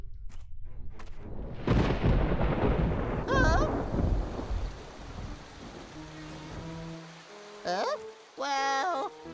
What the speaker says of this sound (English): Tiki, I thought you said it wouldn't rain, but look!